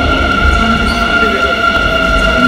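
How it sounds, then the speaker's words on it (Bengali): A metro train pulls into a station in Korea with a loud, continuous rumble and steady tonal hum from wheels and motors, filling the whole moment up close without pause. "আমাদের ট্রেন ইতিমধ্যে চলে আসছে"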